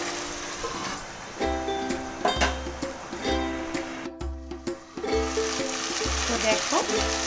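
Spice masala fries in a pan for tangra fish curry, giving a steady close sizzle broken by rhythmic scraping stir strokes, with no talking.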